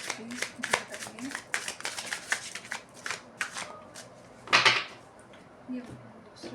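Tarot cards being shuffled and drawn from a deck, a run of quick papery riffles and slaps with a louder burst near the end, close and clear, with someone talking intermittently.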